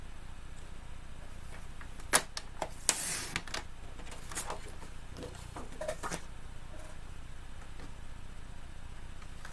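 Paper being cut to size on a trimmer while making a pop-up card, a few sharp slicing swipes and light clicks close by, with quiet handling in between.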